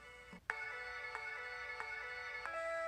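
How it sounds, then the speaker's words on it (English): Vinyl sample sliced into half-note pieces and triggered from a keyboard, a run of repeated tonal chord hits with sharp onsets about every two-thirds of a second, a pitch shift near the end, no voices. "That sounds like this when you play it on the keyboard."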